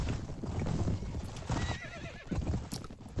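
In the Mount & Blade Warband video game, a horse whinnies in a rising, wavering neigh over steady hoof clip-clops and battle noise, all fairly loud and continuous.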